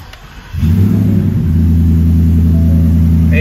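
A 2022 Ford F150 engine cranks briefly and catches after a custom tune flash, then settles into a loud, steady, close idle with a deep low rumble and no one talking.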